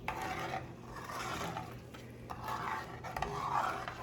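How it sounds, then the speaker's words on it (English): Spoon stirring bouillon seasoning into Mexican rice in a pot, a steady soft scraping and rubbing with a faint sizzle underneath, continuous and close for several seconds. "now I'm gonna mix that together slowly"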